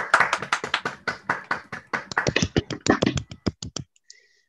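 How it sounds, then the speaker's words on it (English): A handful of people clap at the Digital Preservation Awards 2020 ceremony, distinct close claps in an uneven rhythm that quicken slightly before stopping abruptly, leaving near silence. "Another round of applause."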